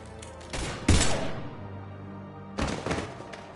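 Weapon fire from the video game Mass Effect 3: two loud bursts of shots, the first around one second in and a second volley near the end, separated by a lull of low rumbling background.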